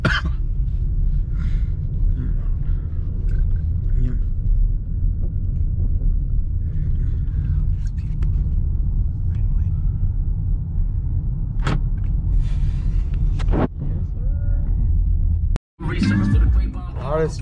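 Road traffic heard from inside a moving car: a steady low engine and tire rumble runs throughout, with a few brief voices and small cabin noises near the end.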